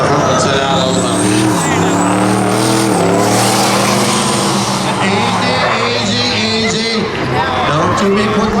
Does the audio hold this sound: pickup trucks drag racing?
yes